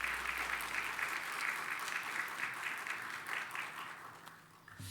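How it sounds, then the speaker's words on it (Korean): A church congregation applauds to welcome a pastor at a New Year blessing dawn prayer service, a steady, moderately distant wash of clapping that fades slightly toward the end. "박수로 우리 오경남 목사님 맞이하겠습니다"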